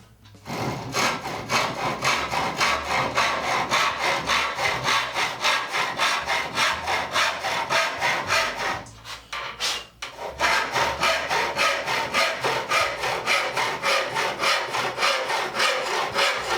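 A Record 44 plough plane cuts a rebate in pallet board wood, producing steady, close, rhythmic rasping strokes in quick succession, with a short pause midway before the planing resumes.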